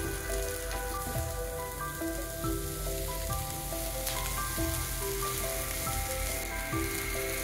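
Onion, carrot and capsicum fry in a pan with a steady, close sizzling crackle that continues evenly throughout, without any talking.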